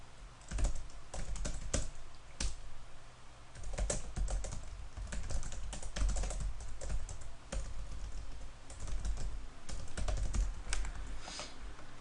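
Computer keyboard typing in quick bursts of clicks, close and steady, separated by short pauses, with no voices.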